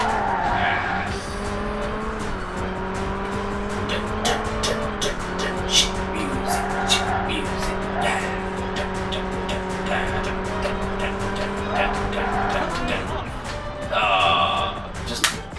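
A race car in the Xbox game Burnout drives a lap with a steady, loud engine drone that shifts pitch through gear changes, tire squeal and skidding at a corner, and a sharp burst near the end.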